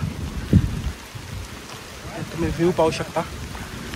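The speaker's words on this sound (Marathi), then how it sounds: "आता इथे सध्या पाऊस यायला लागला आहे" Rain patters steadily in the background while a person talks over it, with a few louder thuds and splashes.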